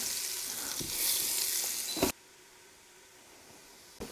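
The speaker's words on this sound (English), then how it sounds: "Add our shallots." Shallots sizzling in melted butter inside an Instant Pot, a loud bright crackling hiss that cuts off abruptly halfway, leaving a quiet background.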